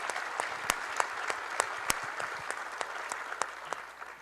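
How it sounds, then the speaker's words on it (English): Brief applause from an audience at a public event in Ottawa: a dense patter of many hands with a few sharp nearby claps, fairly faint and tapering off at the end. "I think we should give them a round of applause"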